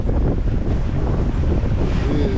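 Steady wind buffeting and waves slapping around a sailboat beating upwind on the Chesapeake Bay near the Potomac, a constant loud rush with no talking.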